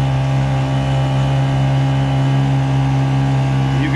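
A Honda 50cc outboard motor with a stainless steel propeller drives a NuCanoe Frontier 12 kayak, holding a loud, steady, close droning hum with a strong even pitch and no voices.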